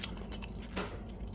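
Someone bites into king crab fried rice made with crab shell and sesame oil, a few soft close crunches and chewing sounds spaced across a quiet moment, with a sharper click at the end.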